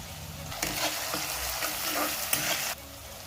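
Egg bhurji fries with garam masala in a hot pan, a dense sizzle rising as the spatula stirs through it, with a few clinks before the sound cuts off.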